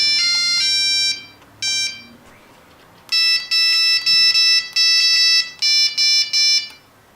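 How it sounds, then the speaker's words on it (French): A custom ringtone composed on a Nokia 3310 plays as bright monophonic beeping notes: a few short tones, a pause, then a rapid run of evenly spaced loud beeps, clear and close with no voices. "vous avez la possibilité de créer vous-même vos sonneries grâce au compositeur"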